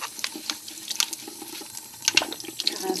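Tap water runs and splashes as a baby bottle is rinsed at a sink, an uneven close-up spatter with small knocks and drips over a few seconds.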